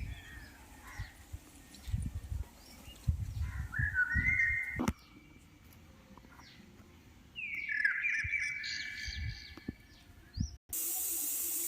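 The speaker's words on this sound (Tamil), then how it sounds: "விசில் வந்துச்சு, நம்ம ஸ்டவ் ஆஃப் பண்ணிக்கலாம்." Pressure cooker whistling on the stove while chicken biryani cooks, with a couple of shrill, wavering hissing whistles rising above quieter kitchen clatter and low thumps.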